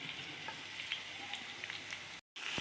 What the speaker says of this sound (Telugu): ఇదిగోండి బెండకాయ ఇలా ఫ్రై అయిపోతున్నాయి అనమాట